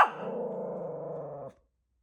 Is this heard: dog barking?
yes